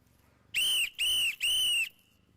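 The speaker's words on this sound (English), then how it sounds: "jumping out of his car and blowing a whistle" Three sharp, shrill whistle blasts in quick succession, each about a third of a second, loud and close with short gaps between.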